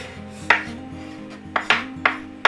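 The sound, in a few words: chopping an onion with a knife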